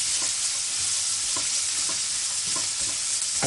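Onions, ginger garlic paste and cashew nuts fry in a hot vessel for bagara rice. A steady close sizzle runs throughout, broken by regular scraping stirs of the spoon, with no talking.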